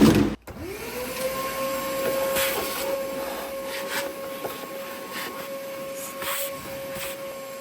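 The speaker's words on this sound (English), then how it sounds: "now I wanna vacuum this out so we have no trash going in there" A vacuum cleaner switches on with a thump and settles into a steady, loud whine and rushing hiss while cleaning out a four-wheeler parked for 12 years, its tone wavering slightly as the nozzle moves, with no talking.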